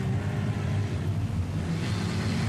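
Speedway race cars roar together at Maryborough Speedway as a race gets under way, a dense, steady engine drone that holds loud and continuous throughout with no speech.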